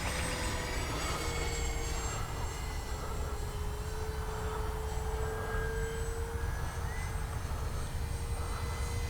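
A Kavan Bristell B-23 RC model aircraft flies through an evening sky, its engine a steady, continuous drone heard from a distance, with a faint tonal whine riding over the hum throughout.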